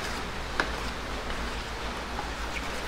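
Steady rain falls during Typhoon Enteng as a soft, even hiss of drops, faint and continuous with a low rumbling undertone and a couple of small taps.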